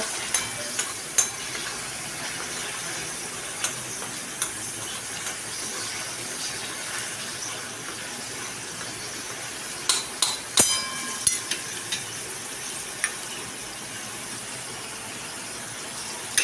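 A paste of onion and garlic fries in a pan with a steady, quiet sizzle, broken by a few soft scraping clicks and clinks near the end.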